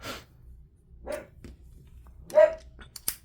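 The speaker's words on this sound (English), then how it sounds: "That's also a dog again." A dog barks a few separate times at moderate distance, short sharp yelps spaced across a few seconds against a quiet background with faint low hum.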